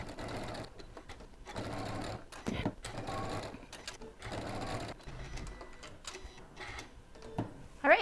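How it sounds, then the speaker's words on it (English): A sewing machine topstitches close to both edges of a folded, pressed fabric tab for a Nantucket pouch, running in steady bursts with brief pauses between them, close and moderately loud with no talking. "I'll top stitch close to both edges"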